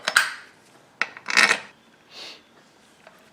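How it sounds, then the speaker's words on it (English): Metal sump bolts from a 12.5 HP Briggs and Stratton engine are tossed into a container, giving several sharp clattering bursts of clinking metal, the loudest near the middle, followed by a fainter rattle. "Throwing in the sump bolts."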